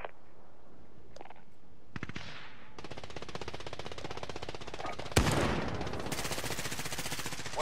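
Rapid automatic gunfire in a multiplayer shooter targets a UAV overhead, a long stuttering burst of close, sharp shots that grows louder and denser near the end.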